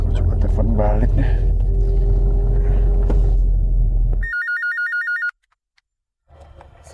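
A telephone ring tone pulses in a short, rapid electronic burst during a call back, following loud rumbling background noise and then cutting to silence.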